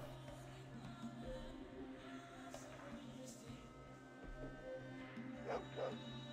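A dog whimpering and yipping in the game Fallout 2, faint short cries over a droning background hum with a brief brighter yelp near the end.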